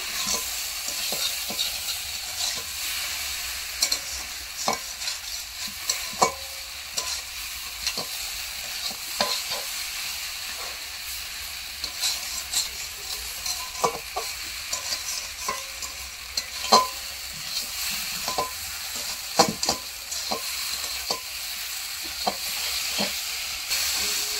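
Spiced masala with tomatoes being sautéed in a pan for a mourala fish curry with mustard, poppy seed and eggplant, giving a steady close sizzle with frequent scraping stirs from the spatula and no talking.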